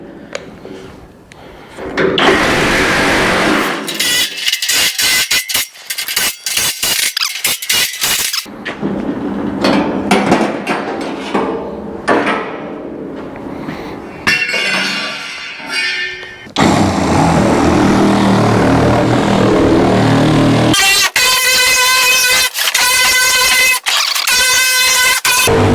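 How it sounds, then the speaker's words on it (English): A Sawzall reciprocating saw fitted with a metal blade cuts into an IBC tote, making loud, harsh, buzzing bursts that start and stop repeatedly, with rattling plastic and metal between the cuts. "a metal blade on a Sawzall works much better for all of this."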